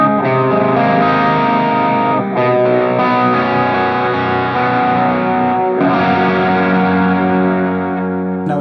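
Electric guitar chords ring through a Source Audio Ventris set to dotted-eighth delay with modulation, with dense, shimmering repeats and a wash of ambience that sustains continuously without a break.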